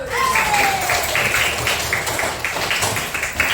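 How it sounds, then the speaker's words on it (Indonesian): Hands clap in a steady, rhythmic pattern of repeated beats at a school gathering after a national song, with a tone or whistle and background voices in the mix. "Tepuk tangan."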